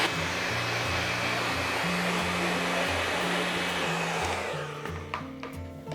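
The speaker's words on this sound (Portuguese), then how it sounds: "Vou acelerar o processo de secagem com o secador." A hair dryer blows steadily at close range, drying primer brushed onto a plastic ice cream tub, a loud constant whooshing hum that cuts off near the end.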